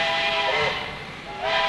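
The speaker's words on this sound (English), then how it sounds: "3 times he blew the whistle," A steam locomotive's whistle blows two loud, sustained tonal blasts with a brief dip between them, carrying a breathy hiss, heard alone without talk.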